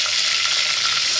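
Cumin seeds and curry leaves fry in hot oil with a loud, dense, continuous crackling sizzle, close and uninterrupted.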